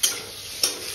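Papaya khar, an Assamese dish, stirred in a pan with two brief close scrapes of the spoon about half a second apart over a soft steady sizzle.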